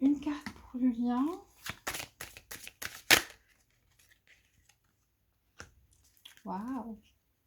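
Tarot cards are shuffled and drawn in a quick burst of crisp riffling and flicking, with a voice talking before and after.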